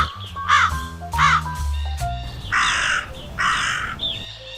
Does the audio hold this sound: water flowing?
no